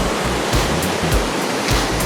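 Kakabeka Falls pours as a steady, full roar of rushing water, a dense broadband wash that stays constant and close with slight surges, and no one speaks over it.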